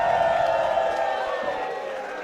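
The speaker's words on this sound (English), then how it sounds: "Crowd solidly behind Tickles Monster" A wrestling crowd cheers and shouts for a costumed wrestler at an indoor pro wrestling show, a dense, steady roar of voices that eases slightly over a couple of seconds.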